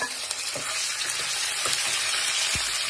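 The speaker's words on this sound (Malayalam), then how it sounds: "ചെറിയുള്ളി ചെറുതായി അരിഞ്ഞതും കൂടെ ചേർത്ത് ഈ കടുക് വറുത്തെടുക്കാം." Mustard seeds, chopped chillies, curry leaves and sliced shallots fry in hot oil for a Kerala chicken stew, making a loud, continuous close sizzle with a few soft stirring knocks; no voices.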